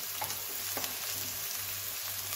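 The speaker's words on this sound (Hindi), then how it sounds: "प्याज हल्का सा नरम हो चुका है, तो अब मैं इसमें मसाले डाल दूंगी।" Softened onions with added spices fry steadily in a pan for an aloo paratha filling, giving a quiet, continuous sizzle with faint stirring and no talking.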